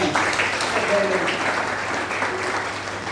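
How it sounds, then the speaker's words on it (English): Audience at a talk claps together for the event organizers, a steady dense wash of applause lasting about three seconds, loud and close, with some voices mixed into the clapping. "why don't we clap for the organizers?"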